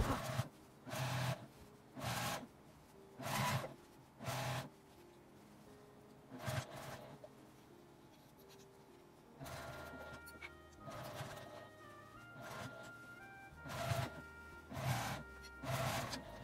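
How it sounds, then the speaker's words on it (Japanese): A sewing machine runs edge-stitching around a shoulder bag with the strap tucked in, working in repeated short bursts of about a second with pauses between them, close and fairly quiet, no talk. "紐を挟んだ状態で一周端ミシンをかけます。"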